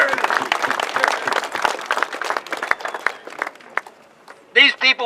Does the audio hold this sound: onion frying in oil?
no